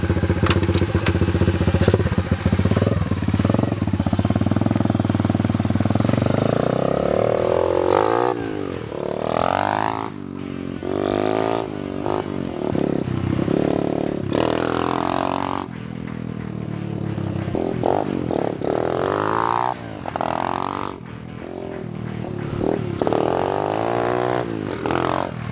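A cheap adult dirt bike's small engine starts and runs, sputtering and revving in uneven bursts with clattering and scraping nearby, while people talk briefly in the background.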